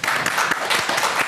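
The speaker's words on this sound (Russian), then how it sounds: "Эти аплодисменты..." Audience applause at an evening event in the Novobelitsky district of Gomel, a brief dense burst of clapping at steady loudness.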